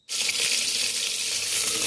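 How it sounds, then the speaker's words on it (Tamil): Curry leaves and shallots frying in sesame oil in a pan after mustard seeds have popped, a steady close sizzle that starts abruptly and stays loud and even throughout, with no talking. "1 கொத்து கறிவேப்பிலை போட்டு நல்லா வதக்கிக்கலாம்."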